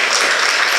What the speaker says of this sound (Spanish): Demos de un fuerte aplauso al Señor.